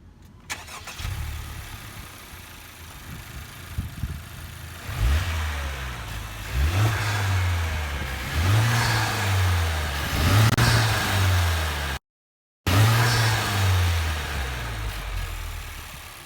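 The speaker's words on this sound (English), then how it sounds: "That large exhaust noise from inside the car gives you a nice, pleasant sound." A 2017 Honda Civic Type R turbo engine revs repeatedly, its large exhaust rising in loud, close bursts that climb and fall several times over a steady engine drone.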